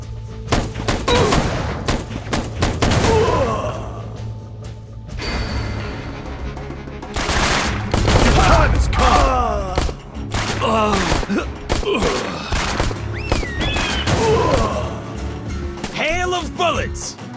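Rapid gunfire from the mobile western game West Legends: Guns & Horses crackles in loud, dense volleys throughout, with short pauses. Voices speak over the shooting, and game music plays underneath.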